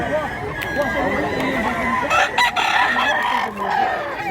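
A rooster at a gamefowl farm in Mantalungon, Cebu crows loudly and close, with strained rising calls and clucking from other fowl around it. Someone talks over the birds.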